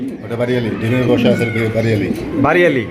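A pigeon at a bird market gives a series of deep, throaty coos close by, repeating in rolling phrases with a rising call at the end.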